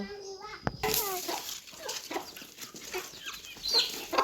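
Chickens cluck close by during feeding while children's voices chatter over them, a busy farmyard scene in the evening with an abrupt knock near the start.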